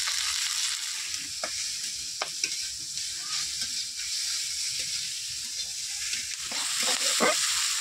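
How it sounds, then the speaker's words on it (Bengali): Okra frying in hot oil with salt and turmeric gives a bright, steady sizzle, with occasional soft knocks of stirring nearby and no one speaking. "এবারে ভেন্ডিগুলো দিয়ে দেবো। দিয়ে দেবো স্বাদ মতো লবণ, আর দিয়ে দেবো হলুদ গুঁড়ো।"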